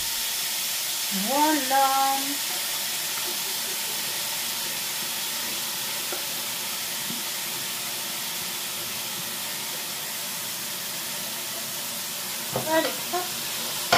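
Food frying in olive oil in a pan, browning gently, with a steady broad sizzle throughout. A person speaks briefly near the start and again near the end.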